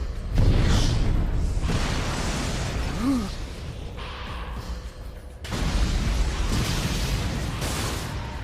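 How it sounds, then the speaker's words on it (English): An explosion in the Fist of the North Star game sounds as a rumbling, booming blast with heavy low-end roar, followed by a lull and a second surge of loud rumbling. "There's been an explosion!"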